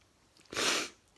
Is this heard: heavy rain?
no